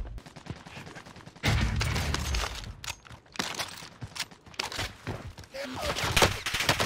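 Rapid bursts of automatic gunfire ring out in a Rebirth Island match, with clustered volleys and sharp single shots spread unevenly over the clip, mixed with scuffing footstep sounds.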